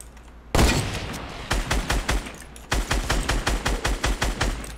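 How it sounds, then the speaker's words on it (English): Fortnite gunfire rattles in rapid automatic bursts, a sharp opening shot followed by two close, evenly spaced strings of shots with a short gap between them. "Second guy shooting from the mountain, coming down from the mountain."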